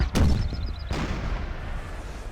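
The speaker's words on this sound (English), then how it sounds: "the firing cannons towards the Grenzer company" Cannon artillery fire in the Napoleon Total War battle game: two booming shots in quick succession with a rumbling tail, loud and close, with no talking.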